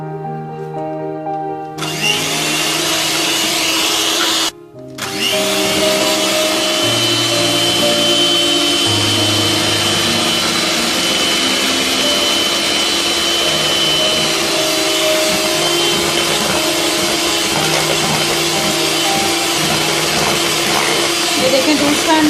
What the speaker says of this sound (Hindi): इसको अच्छी तरह से बीट कर लेंगे।